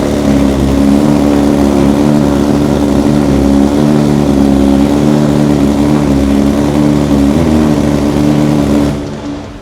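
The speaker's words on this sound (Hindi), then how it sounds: "अब एक बार इस मोटरसाइकिल की आवाज़ सुनते हैं।" BMW S1000 RR superbike engine running at a used bike market in Delhi, a loud, close, steady mechanical roar with slight rises in pitch, continuing for several seconds before easing off at the end.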